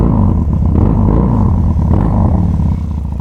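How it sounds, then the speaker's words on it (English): A Harley motorcycle engine rumbles steadily up close during an evening ride, a deep, continuous throaty exhaust drone with slight shifts in pitch, no voices. "you're gonna get some pure motorcycle sounds"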